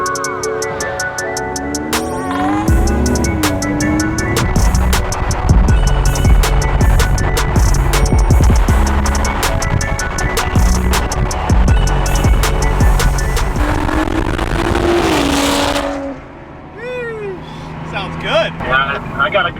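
BMW F30 335i with an N55 engine and a custom straight pipe exhaust, a loud, raspy exhaust roaring steadily under talk for most of the stretch, then dropping away near the end.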